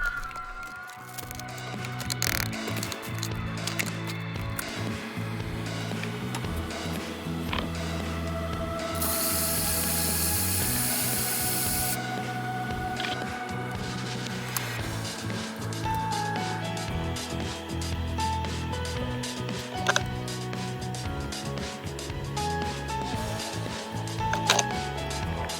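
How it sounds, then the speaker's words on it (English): Glued wood rings of padauk and poplar being clamped up for a segmented bowl with many spring clamps, a long run of dense ratcheting clicks and small mechanical snaps over a steady hum. "how we clamp it up."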